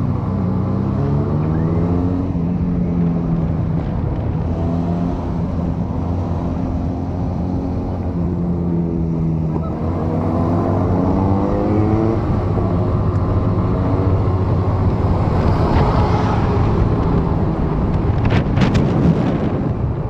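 A Benelli Panarea 125 motorcycle riding along, its engine droning steadily with rising and falling pitch as it shifts through gears, wind rushing over the microphone the whole time.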